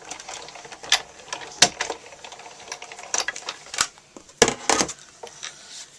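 A hand-cranked Big Shot die-cutting machine feeds a cutting plate through while making a stitched paper tag for a card. It produces irregular close clicks and ratcheting clatter with a few sharper knocks, and no one speaks.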